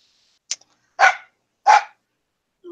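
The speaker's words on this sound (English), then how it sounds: "Oh my gosh, this dog." A dog named Ringo barking, two sharp loud barks about half a second apart after a faint short yip, close by with no talk over them.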